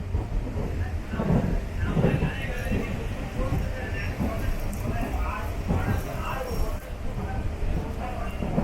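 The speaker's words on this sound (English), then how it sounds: "It's raining quite hard." Heavy downpour heard from aboard an Erode–Palakkad MEMU train near Kerala, a continuous wash of rain and rumble that runs throughout, with some faint sounds mixed in.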